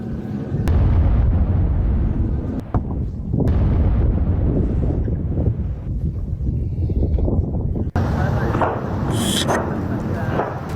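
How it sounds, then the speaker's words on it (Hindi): Heavy booming explosions from an attack in the Iran–Israel war rumble one after another, loud and distant-sounding, with windy noise and a sharper burst of crackling toward the end. "तो ये धमाके आप सुन रहे हैं"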